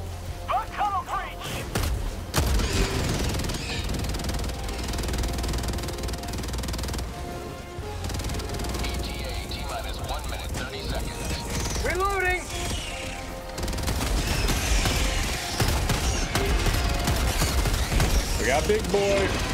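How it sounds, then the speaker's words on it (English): Two giant mechs trade fire in the video game Helldivers 2, a dense, continuous barrage of rapid gunshots, booms and heavy thuds that fills the whole stretch, with players talking over the battle. "there's 2 mechs trying to shoot each other"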